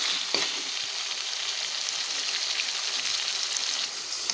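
Dried shark thokku with tomato sautés in a pan, giving a continuous close hiss of frying with faint stirring taps, steady throughout.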